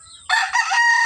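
A rooster crows once, close and loud, a short rising call from a fighting gamecock kept on a Filipino breeding farm, standing alone with no talk over it.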